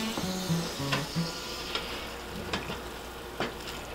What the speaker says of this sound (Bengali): এখন আমি ঢেলে দিচ্ছি সেই সরিষাটা।